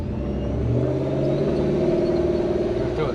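A supercharged 1UZ V8 in a Toyota Hilux runs steadily close by, a loud continuous engine drone that swells slightly under a throttle blip, with no voices.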